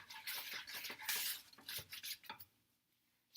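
Eggs for a keto omelet are whisked in a bowl with rapid rhythmic scraping and tapping strokes, close by, before the stirring trails off into near quiet.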